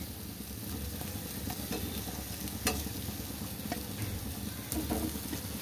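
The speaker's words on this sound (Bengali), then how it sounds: "মশলার সাথে ভালো করে কষিয়ে নেব।" Potatoes and papaya fry in oil-slicked spice paste as a utensil stirs them, giving a steady close sizzle with soft scraping and a few sharper clicks against the pan.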